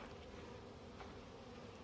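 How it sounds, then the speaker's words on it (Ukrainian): Honey bees from newly installed bee packages on frames, a dense steady buzzing hum at close range with no pauses, in mild outdoor weather around 18 degrees. "Бджолині бджолопакети, бджолопакети на рамках"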